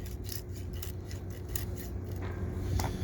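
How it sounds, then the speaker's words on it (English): A knife saws and scrapes through the fins of a whole fish in short rasping strokes, close up and fairly quiet, with no talking. "I'm going to take off the fins. Just cut all the way down."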